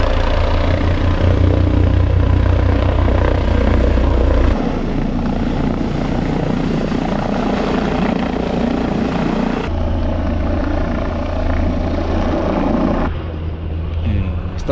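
An emergency rescue helicopter arrives at a mountain summit, its loud rotor and engine roar close and continuous throughout, with someone talking over it.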